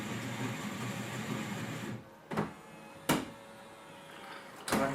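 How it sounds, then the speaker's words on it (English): A Caffe Society CS Zurich bean-to-cup coffee machine grinds beans with a steady, dense whirring roar for about two seconds, then falls quiet apart from a few sharp mechanical clunks. "The machine grinds the beans for the individual cup."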